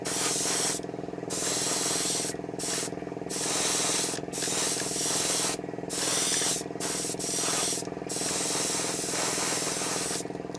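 Spray paint hissing from an aerosol can in light coats onto a 1/12 scale Bandai Boba Fett model, close and loud, in repeated bursts with short pauses between.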